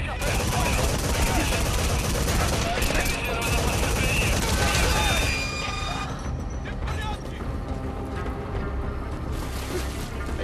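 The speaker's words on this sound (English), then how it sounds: "Where am I even getting shot from?" Heavy gunfire from Metal Gear Solid V roars continuously and loud for the first half, then thins into scattered shots and clatter as voices talk over it.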